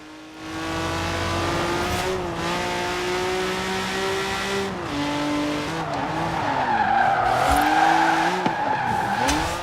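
A 1992 Honda NSX-R drifting on handbrake in the video game Forza Horizon 4, its engine holding a loud steady drone as tires squeal and skid in long continuous slides with shifting pitch.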